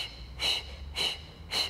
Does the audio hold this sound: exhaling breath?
yes